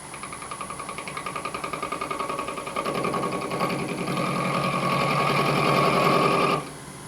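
Lathe spinning a 4-jaw D1-4 camlock chuck at 630 RPM, a rhythmic whirring hum that pulses quickly, grows louder and fuller partway through, then cuts off sharply as the machine stops.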